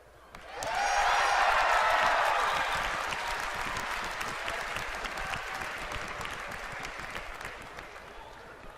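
An audience at BlizzCon bursts into loud cheering and applause. The noise peaks early, then eases into sustained clapping that lasts to the end.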